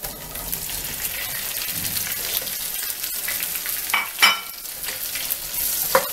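Surimi sizzles in butter with garlic in a pan, a loud, dense crackle like steady rain, broken by a few sharper stirring scrapes and pops, with no talking.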